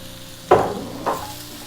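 Mushrooms dropped into a pot of frying bacon and onions for Polish bigos, two quick bursts of hissing sizzle over a low, steady background hum.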